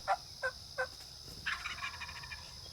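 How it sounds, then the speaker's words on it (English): A wild turkey gobbles at daybreak beside an old pond bed in South Florida: three short, distant gobbles in a quick row, then a longer rattling call, all faint over quiet morning air. "As daybreak came, the turkey got plenty fired up."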